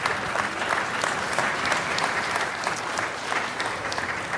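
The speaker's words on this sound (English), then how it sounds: "Let's give him a round of applause." A room full of people at a city council meeting breaks into sustained, even applause, dense clapping that continues steadily throughout without pause.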